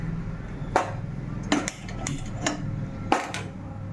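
A metal kadai is handled on a kitchen stove in the evening before frying fish. Several sharp clanks and knocks of metal ring out at irregular intervals over a low background hum, close and fairly loud.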